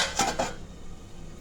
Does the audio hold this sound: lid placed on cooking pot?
yes